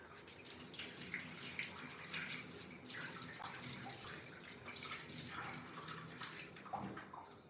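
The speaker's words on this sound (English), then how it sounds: "To rinse my potatoes one more time because I cut them in half" Running tap water rinses halved potatoes, a steady splashing gush broken by irregular patters as the stream hits the potatoes, fairly faint and heard alone.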